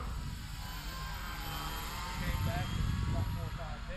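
E-flite Cherokee electric RC model plane flying overhead, a faint steady motor whine rising slightly in level, distant, beneath outdoor background noise.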